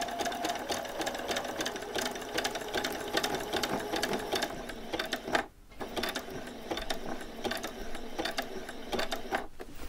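A sewing machine runs close and steady along a t-shirt seam, its rapid needle clatter stopping briefly midway, then resuming and cutting out again near the end.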